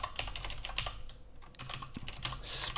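Rapid clicking keystrokes on a computer keyboard while typing JavaScript code, close and crisp in uneven bursts with short pauses, no voices.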